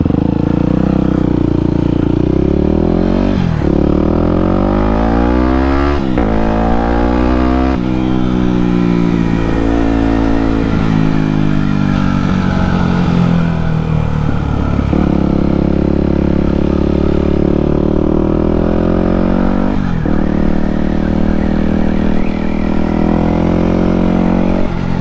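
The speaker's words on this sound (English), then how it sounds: "This is how it was supposed to run" A Yamaha WR250X motorcycle engine, newly running smoothly after a fuel line kink was cleared, idles loud and close, then revs up and down repeatedly in rising and falling sweeps.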